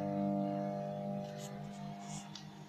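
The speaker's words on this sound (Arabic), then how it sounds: "وهنقفل الميكرويف ونشغله على الثلاثين ثانية" A Zanussi microwave oven runs with a faint, steady electrical hum that holds evenly throughout, with a few soft knocks near the end.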